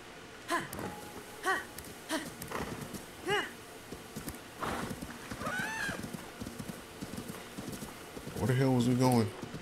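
Rhythmic horse hoofbeats clop along steadily in the video game The Legend of Zelda: Tears of the Kingdom, with a whinny and a snort near the end; no talking.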